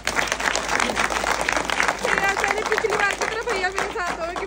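A gathered group claps together, a busy burst of hand claps that rises and dips. Voices and chatter carry over the clapping the whole time, with people calling out and talking.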